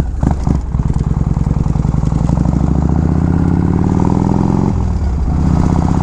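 A 1979 Harley-Davidson FLH Shovelhead motorcycle engine runs loud and close while riding, a deep lumpy throb with rhythmic clatter that swells as it accelerates, then dips briefly and picks up again.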